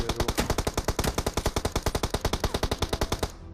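Rapid automatic gunfire from the video game BGMI on the Erangel map: one unbroken burst of evenly spaced sharp shots lasting about three seconds, close and loud, then a brief tail.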